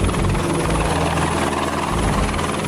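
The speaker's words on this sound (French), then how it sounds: "On est maintenant prêt à la charger dans l'hélicoptère et à la ramener à la base." Helicopter close by and loud, a continuous heavy rotor thrum with rhythmic low pulsing and engine whine, steady throughout.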